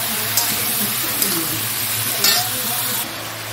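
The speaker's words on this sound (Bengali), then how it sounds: "চাপা দিয়ে এটা ভাজবো।" Food frying covered in a pan gives a steady, close sizzle with faint muffled clinks, the hiss holding an even level throughout.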